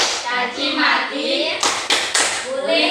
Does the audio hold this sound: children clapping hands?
yes